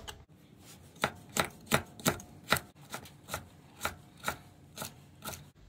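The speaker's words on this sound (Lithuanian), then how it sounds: "jeigu norim supjaustyti daržovę juostelėm arba šiaudeliais" A knife chops carrot into thin strips on a cutting board, about fifteen crisp, evenly spaced strokes, close and clear with no talking.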